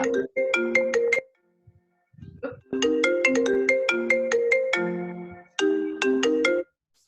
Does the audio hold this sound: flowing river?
no